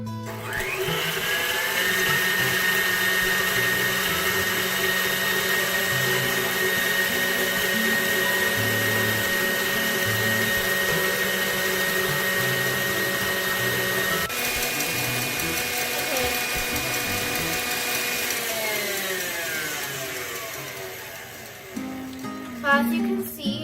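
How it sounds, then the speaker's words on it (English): Electric mixer on fast whipping egg whites and granulated sugar for French macarons, a steady, loud motorized whir that runs nearly twenty seconds, shifts pitch slightly midway, then winds down. "We're gonna put our mixer on fast"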